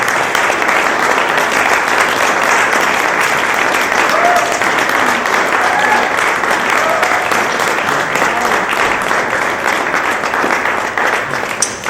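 An audience gives a sustained, loud round of applause for a choir from Los Angeles at a concert, dense clapping filling the whole stretch with a few faint voices mixed in.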